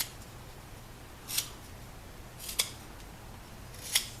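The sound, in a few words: knife cutting across the grain while carving a wooden spoon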